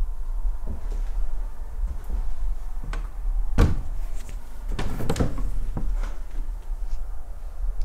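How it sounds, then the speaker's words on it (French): A cupboard or wardrobe door creaks and knocks open inside a quiet, dark house, followed by a few scattered thumps and rubbing sounds at moderate loudness, with no voices. "Il y a un truc qui a frotté. Ou un bout de porte qui s'est ouvert."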